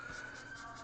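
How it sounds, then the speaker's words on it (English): A faint siren from passing vehicles holds steady in the distance for a brief moment, with a slight wavering pulse behind it. "You can hear the sirens going by."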